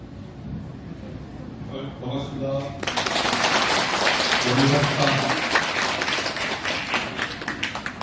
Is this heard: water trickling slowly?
no